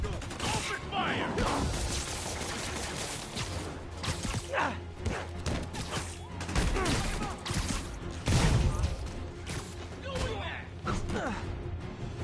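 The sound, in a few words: gunfire from enemies in Spider-Man video game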